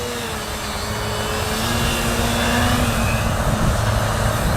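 Small RC model airplane engine buzzing steadily while the plane hovers low, its pitch rising and falling gently as the throttle is adjusted, loud and continuous with no talking.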